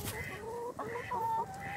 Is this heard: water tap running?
no